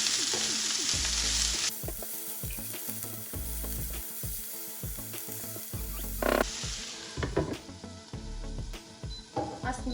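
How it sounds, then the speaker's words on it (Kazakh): Chopped onion fries in rendered sheep tail fat, with a steady loud sizzle and crackle, frequent stirring and scraping, and a brief surge of spitting partway through, with no talking. "Біраз жұмсарғанша қуырамыз"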